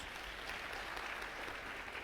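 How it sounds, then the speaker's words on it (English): Audience clapping at a tourism digitalisation masterclass, an even, sustained patter of applause heard fairly quietly and somewhat distant. "Let's give them a big round of applause."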